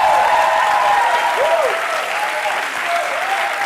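A studio audience at a late-night comedy show claps in sustained, dense applause, loud and close, with a few faint whoops rising over the broad clatter throughout.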